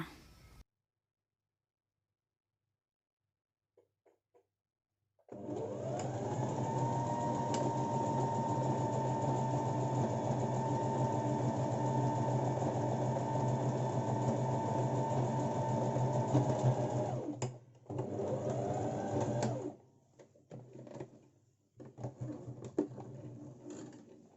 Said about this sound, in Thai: ต่อไปดูการเย็บย้ำก่อนที่จะเริ่มเย็บและ เย็บย้ำก่อนที่จะจบการเย็บค่ะ